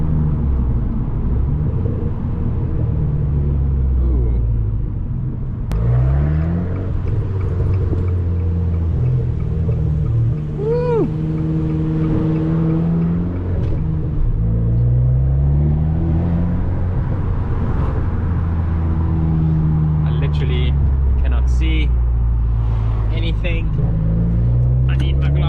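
A remapped stage 1 Abarth hums steadily while driving, its engine note climbing and dropping through gear changes as a voice talks over the drone.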